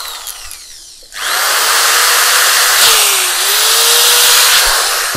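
A cordless drill fitted with a multi-purpose bit whines loudly and steadily for several seconds after a quieter start, its pitch dipping slightly midway.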